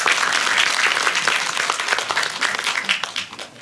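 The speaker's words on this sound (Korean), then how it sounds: "박수 한번 더 부탁드리겠습니다." An audience at a film premiere Q&A in Busan applauds the action actors, a loud, dense wash of clapping that holds steady and then fades slightly at the end.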